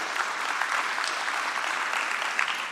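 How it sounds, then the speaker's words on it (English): Delegates at a national transport conference applaud in a packed hall, a dense burst of many hands clapping at once, loud and sustained for a few seconds with no break. "the zeal and passion displayed by delegates to this conference is commendable and deserves a round of applause."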